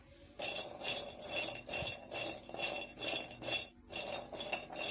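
Walnuts being lightly warmed and stirred in a pan, with a steady run of scraping, rattling strokes in a regular rhythm, close and fairly quiet, no voices.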